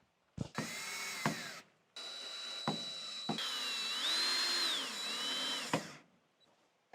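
A power drill drives screws to fix a wooden garlic drying tree in place at its top. Several whirring bursts of varying length are separated by short silent pauses and small clicks, close and fairly loud, with no talk.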